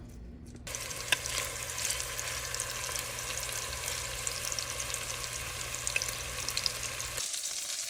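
Meatballs fry in a skillet with a constant close sizzle and crackle, with a few small taps as pieces go into the pan, then it cuts off abruptly.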